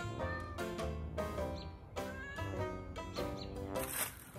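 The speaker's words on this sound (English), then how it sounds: "Am I going to be rescuing two cats now with James, a ladder in the fire department?" A cat stuck high in a big tree meows repeatedly during a rescue, the cries coming in a steady series of drawn-out calls over constant background noise.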